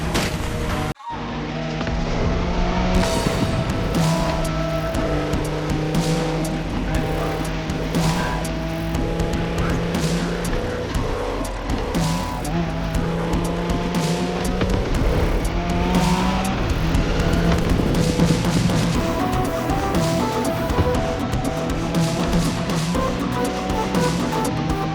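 A Nissan Skyline races through The Crew Motorfest with a loud, sustained engine roar that holds steady for the whole stretch, with gear shifts and tire squeal over a continuous driving rumble and no talk.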